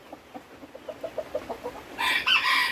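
Chickens cluck in a quick series of short notes, then a rooster bursts into a loud crow near the end, all close by in a flock where the pecking order is being settled.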